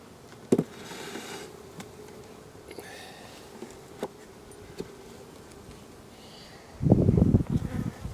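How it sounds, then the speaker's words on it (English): Bees inside an opened beehive during a swarm-prevention check, a faint steady hum under scattered knocks and clicks of hive parts, ending in a louder burst of handling noise. "Well, I see a lot of bees."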